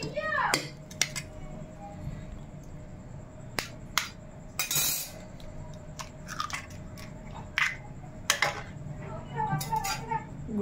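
Tomato chutney mixed with chopped onions in a bowl, a spoon clinking and scraping repeatedly against the bowl in irregular bursts, close, with someone talking over it.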